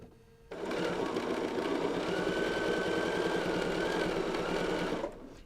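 Sewing machine stitching wide chunky quilt binding: a steady, fast mechanical whir that starts abruptly, runs evenly for about four and a half seconds, then stops.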